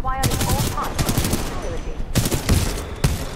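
Rapid bursts of shotgun fire in the video game Titanfall 2, loud repeated blasts with short gaps, mixed with game noise and some talk.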